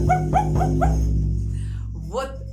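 A person imitates a Kamchatka dog with a string of short, rhythmic barking yelps, then a final drawn-out yelp after a pause, loud and close.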